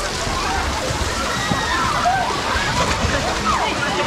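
Water splashes and sloshes continuously in the splash area of a natural hot spring water park in Bali, a dense, steady wash of spray close by, with voices mixed in.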